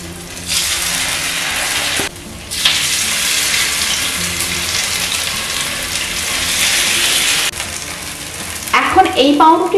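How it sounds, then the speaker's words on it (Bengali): Slices of bread fry in a pan with a bright, constant sizzle, broken by brief drops in the hiss. The closing seconds end in clattering and handling noises. "এখন এই পাউরুটিগুলোকেও একইভাবে উল্টে পাল্টে লাল লাল করে ভেজে নিচ্ছি।"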